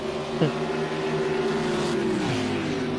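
Race car engines in a Texas 500 race broadcast drone steadily in the distance, one car's pitch dipping briefly as it passes, with no talk over the sustained hum.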